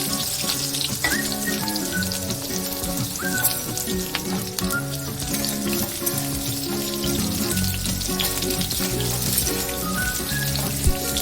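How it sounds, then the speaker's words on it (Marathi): Onions frying in hot oil in a kadhai give off a steady, close sizzle and crackle, browning throughout, with tonal music running underneath. "तापलेल्या तेलामध्ये हे कांदे चांगले फ्राय करून घ्यायचे आहे, ब्राऊन होईपर्यंत"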